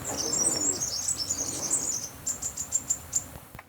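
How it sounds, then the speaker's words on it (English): Small birds chirp and sing in a garden, a dense run of high twittering notes at first, then a series of clearer repeated chirps, fairly close and moderately loud against quiet outdoor ambience. "I want to share these little birds singing with you"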